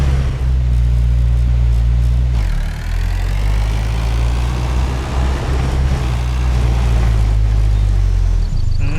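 In the video game SCUM, a car engine runs steadily at close range, a low droning rumble that holds throughout with a brief dip partway, with no speech over it.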